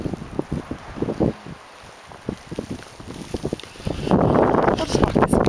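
Icy wind in a Colorado blizzard rushes and gusts against the mic, with crunching footsteps in frozen snow early on, then a loud sustained blast of wind roaring in near the end.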